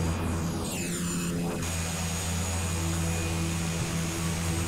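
Cockpit sound of the flaps and landing gear on a Carenado S360 aircraft in a flight simulator game: a steady engine drone with a descending mechanical whir in the opening seconds, then continuous hum.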